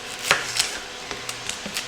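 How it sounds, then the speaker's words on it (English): An onion is rough chopped with a knife on a cutting board, a handful of sharp, close taps in an uneven rhythm, fairly quiet with light kitchen background. "I'm just going to rough chop it."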